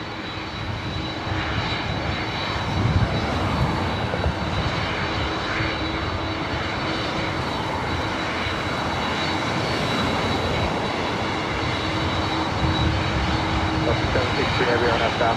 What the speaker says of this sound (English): It's a 24-year-old 767 300 ER.